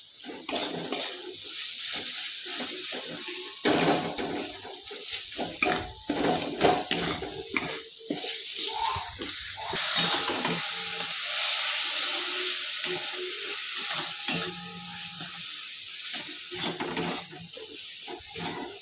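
Spice masala with Kashmiri chili powder being stir-fried in a pan for a mutton dish, steady sizzling with frequent scraping and stirring clatter, close and fairly loud, no voices.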